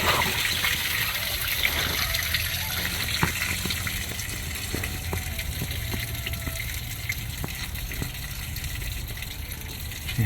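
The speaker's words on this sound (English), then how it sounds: "Drains out pretty fast then" Coolant drains from the radiator of a 1985 Monte Carlo SS in a steady close trickle and splash, with faint clicks and handling noises mixed in.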